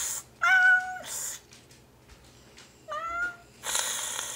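A girl playing a wild kitten gives two drawn-out, whiny meows a couple of seconds apart. It is a human voice imitating a cat, heard close against quiet room noise.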